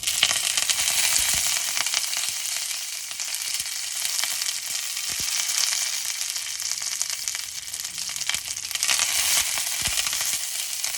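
Chana dal, urad dal and curry leaves fry in hot oil in a pan with a steady, loud, crackling sizzle that carries on throughout, broken by small pops and the odd scrape of stirring.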